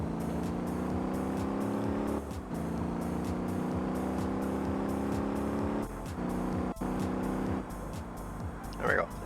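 Car engine in the Motor Town racing game droning steadily on a conventional tarmac racetrack, a loud continuous hum with brief dips and a faint voice talking underneath.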